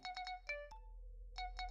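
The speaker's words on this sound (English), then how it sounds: "Phone call." Electronic phone ringtone chirps in short bursts, a clean melodic trill with gaps between, playing quietly in an anime episode, with no talk over it.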